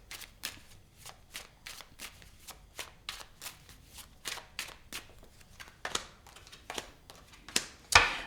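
Tarot cards are shuffled by hand in a steady run of crisp riffling bursts, a quick card slap roughly every half second, close and clear with no talking, ending in a louder final snap.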